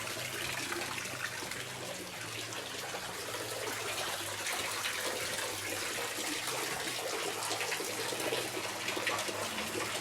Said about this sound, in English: And it runs water through here